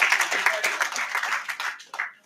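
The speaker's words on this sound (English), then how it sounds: "can you please give them a round of applause?" A crowd at a UDP mayoral manifesto launch applauds young party members with lively, dense clapping that fades out toward the end.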